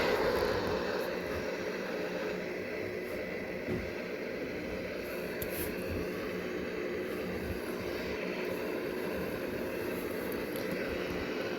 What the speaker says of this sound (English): So the C-130 has just arrived from Midland Airport.